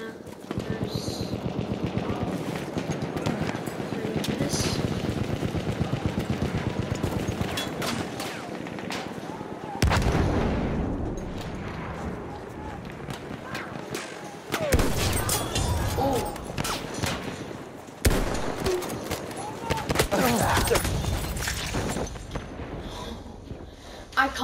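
Gunfire in the World War I shooter Battlefield 1, dense and continuous with bursts and single shots through a busy battle din, with brief cuts between segments.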